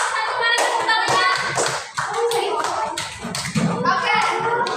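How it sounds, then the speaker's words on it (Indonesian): A group of schoolchildren claps for classmates in a classroom, sharp uneven hand claps and taps bursting at close range, mixed with excited children's voices chattering throughout. "kalau cukup kita berikan tepuk tangan yang meriah untuk kelompok 1"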